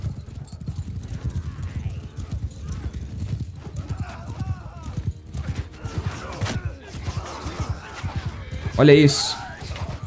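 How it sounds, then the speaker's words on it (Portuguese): Horses in Mount & Blade 2 Bannerlord charge over enemies in battle, rapid clip-clopping hooves pounding steadily with a whinny near the end, heard under a voice speaking briefly. "Olha aí, cavalos passem por cima deles, batendo"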